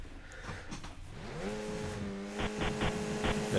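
Race car engine in a racing simulator game, revving up with rising harmonic pitch and then holding a steady buzzing drone, loud and close, with no voices.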